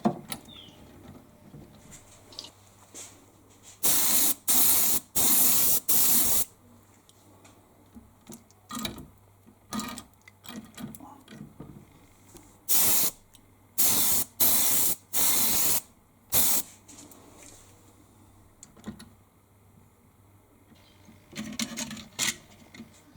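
Airbrush spraying weathered black paint over the bodywork of a Hornby Fowler tank engine model locomotive, in repeated loud hissing bursts of one to two seconds with quiet gaps and faint background hum between them.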